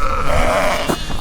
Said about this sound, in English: But we did see some sheep.